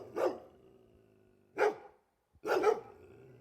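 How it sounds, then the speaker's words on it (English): Three sharp barks from a local dog, added over a street scene, ring out clearly and fairly close, spaced about a second apart with a faint low ambience between them and no voices. "We're going to add a barking dog, because they're running in the street."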